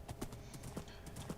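Horse hooves clip-clopping in Minecraft, a steady run of quick, hollow hoof taps at an even trotting pace, close but fairly quiet and with no talk over them.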